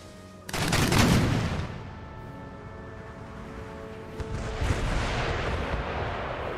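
Cannon artillery in Empire Total War, including 24-pounder great guns, fires at fortress walls in a heavy booming volley with rolling rumble, followed by distant crackling musketry and a second, softer wave of fire.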